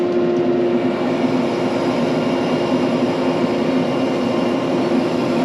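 A tractor loader engine running steadily while a bucket is filled with cattle feed on a farm, a continuous loud droning hum with no pauses and no voices.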